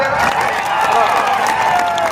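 A crowd at an MPSC exam protest rally in Latur claps and cheers together, a dense, loud burst of applause filling the space.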